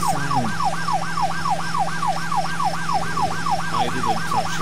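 A police car siren wails in The Unknown City video game, a loud, steady, rapidly rising and falling electronic tone repeating without pause over a constant low engine hum.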